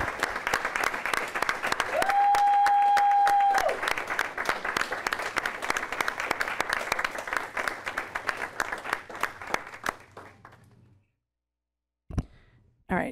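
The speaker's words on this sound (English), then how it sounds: "a big round of applause for Jackie May" A school board meeting audience breaks into sustained applause that fills most of the stretch, with a steady tone briefly sounding over it, then the clapping thins and fades out before a short burst of noise at the end.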